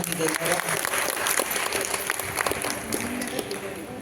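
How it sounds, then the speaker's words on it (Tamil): An audience claps for a children's namasankeerthanam devotional singing performance at an Ayyappa pooja sangam Aadi festival at a suburban school, steady crowd applause throughout with talk mixed in. "எல்லாருக்குமே ஒரு கரகோஷம் கொடுக்கணும்."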